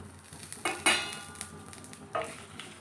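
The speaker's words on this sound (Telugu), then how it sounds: "ఎండుమిర్చిని లైట్గా వేపుకోవాలి మాడకుండా వేపుకోవాలి" Dried red chillies, coriander, cumin and fenugreek dry-roast in a pan, giving off quiet rustling scrapes and a few sharper spoon-against-pan knocks in an irregular rhythm.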